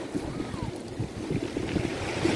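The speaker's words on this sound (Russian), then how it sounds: "Это река Сизуапсе." The Sizuapse river at Lazarevskoye runs full after rain, flowing down from the mountains to the sea as a steady broadband rush of water. Wind buffets the microphone throughout, and no one speaks.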